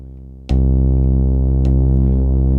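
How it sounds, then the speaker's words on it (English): A deep, sustained bass tone from a Nord Drum 3P, run through reverb, swells in with a strike and holds steady with rich harmonics, a second softer hit blending into the lingering wash. "sending those bass sounds into reverb sounds actually quite cool"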